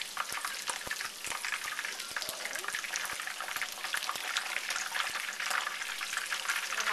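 Breaded chicken katsu fries in hot oil, a dense, loud and constant sizzle with popping crackles close by, no speech over it.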